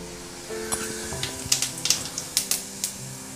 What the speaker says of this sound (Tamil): இப்போ கடுகு வந்து நல்லா பொரிஞ்சிச்சு